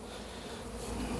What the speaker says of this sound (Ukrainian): всі бджолочки працюють